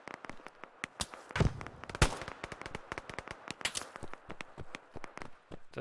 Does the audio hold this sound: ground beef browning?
no